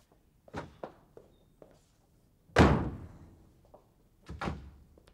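A door bangs shut with one loud, sharp slam, set among lighter knocks and thuds before and after, close by with no talk.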